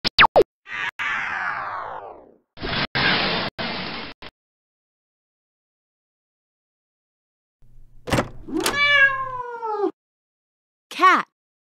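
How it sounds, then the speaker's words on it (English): A cat meows loudly and close up in a children's farm-animal lesson, with a few drawn-out calls following earlier bursts of noise. "Cat."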